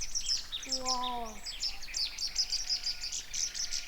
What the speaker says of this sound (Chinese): 树上全都是小鸟